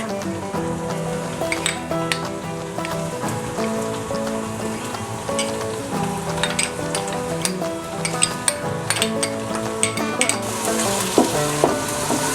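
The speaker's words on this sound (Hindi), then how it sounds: "प्याज को अदरक लहसुन के पेस्ट को अच्छे से फ्राई करेंगे हम।" Onion and ginger-garlic paste sizzle and crackle steadily in a hot pan, with occasional stirring scrapes and clinks, close and continuous without talk.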